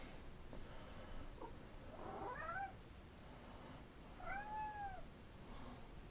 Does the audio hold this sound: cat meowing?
yes